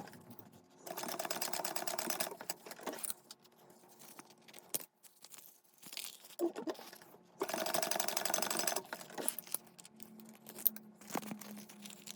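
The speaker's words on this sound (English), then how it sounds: "sew these with a 1/4 inch seam allowance, and you're going to back stitch" A sewing machine runs a quarter-inch seam with backstitching at each end, stitching in several bursts of rapid, close mechanical chatter separated by short pauses and small handling clicks.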